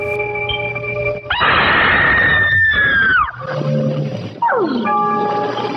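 A woman's piercing scream from the opening of a spooky TV horror-host show, a long sustained shriek with strong harmonics that rises, holds and falls off, set among other loud tonal cries and a low musical drone.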